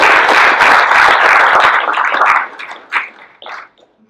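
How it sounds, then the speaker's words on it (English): Audience applause following a speaker's introduction at a coaching keynote event: dense clapping from a crowd that holds steady for about two seconds and then thins out into a few scattered, fading claps. "A little disappointing, that clapping"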